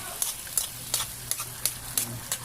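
Fish meat is stirred as it cooks in a pan, with a soft sizzle under about seven evenly spaced sharp scrapes of a spoon.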